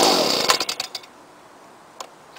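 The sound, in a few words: 1993 Lawnboy 10201 petrol lawn mower engine starting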